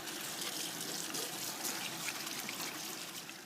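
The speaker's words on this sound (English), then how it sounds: "Right, just wash my hands." Steady running tap water splashes over hands being washed at a kitchen sink while cooking, a continuous close trickle and patter with no talk.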